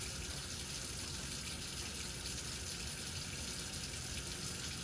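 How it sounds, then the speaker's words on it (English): Tap water runs steadily into a sink during handwashing, a constant broadband hiss and splash that stays even and close for the whole stretch with no talking. "Leave the water running."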